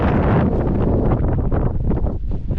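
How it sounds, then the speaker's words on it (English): Steady, loud wind buffets the microphone at a mountain campsite on Mount Pugh in the morning, a continuous roaring rush with gusty swells and no voices. "As you can see, it's a little windy this morning"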